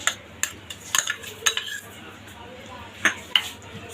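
Clinking and light scraping of a spoon in a bowl as finely chopped onion, cucumber and tomato are mixed together, with a few sharp clinks in a short burst and then a quieter stretch.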